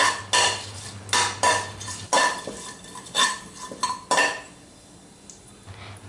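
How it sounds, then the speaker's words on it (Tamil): Whole spices tempering in hot oil in a heavy pan: fennel seeds, star anise, cinnamon, cardamom, cloves and a bay leaf. A soft sizzle sits under a series of loud metallic clanks and scrapes of a ladle against the pan, close and without talk. "எண்ணெய் காஞ்சதும் அதுல 1 டீஸ்பூன் சோம்பு, 1 நட்சத்திர சோம்பு, பட்டை, 3 ஏலக்காய், 3 கிராம்பு, ஒரு பிரியாணி இலை போட்டு நல்லா தாளிச்சுக்கோங்க"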